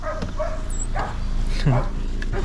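A dog barks a few times in the background on a rural farmyard while people talk over it, the barks muffled and partly masked by the voices.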